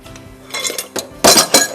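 Dishes, pans and utensils clatter and clink in a kitchen as they are shifted around, several bursts of rattling growing louder toward the end, with no talking.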